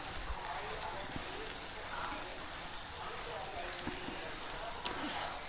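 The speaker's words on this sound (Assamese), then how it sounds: "মছলাখিনি আমি অলপ সময় লৰাম" Spices sizzling in hot oil in a pan, stirred for a few seconds while making shahi paneer: a steady crackling fry with small scraping clicks, close and continuous.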